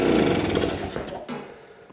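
A 1960 BSA Bantam D7 motorcycle's small two-stroke engine runs on choke with a rough, rapid buzzing close by, then fades and sputters toward a stop.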